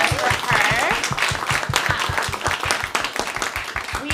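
An audience at an evening storytelling event applauds together, a dense, steady wash of many hands clapping at close range that holds for several seconds and begins to thin toward the end, with no talking.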